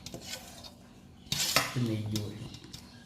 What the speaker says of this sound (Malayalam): എല്ലാം കൂടെ നന്നായി മിക്സ് ചെയ്യാം